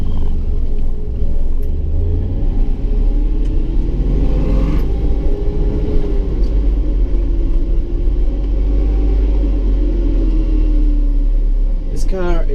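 A 1958 DKW F93 German car driving along with a steady, loud low engine rumble. The motor rises and falls slightly in pitch, and occupants talk over the noise inside the cabin.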